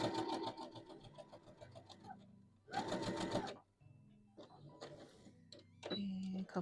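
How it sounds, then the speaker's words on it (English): A domestic sewing machine back-stitching a dress seam, running in short whirring bursts with pauses between them, loud and close. "And a couple of back stitches to lock in."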